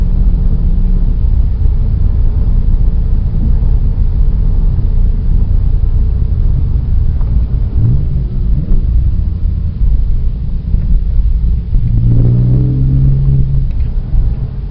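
A Porsche 997.1 S with a 4.1L engine pulls hard in third gear, its engine and road rumble loud and continuous from inside the car, the pitch shifting as it accelerates near the end; no one speaks.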